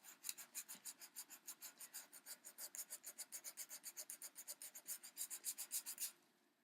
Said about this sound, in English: I'm just going to sand those